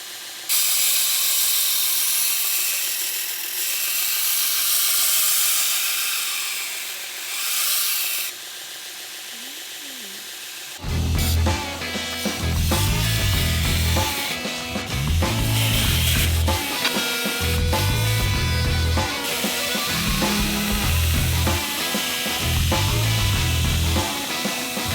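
An axe made from old train rail being sharpened on a homemade jig: a steady hissing abrasive grind, then a louder, rougher passage with rhythmic scraping strokes repeating at a regular pace.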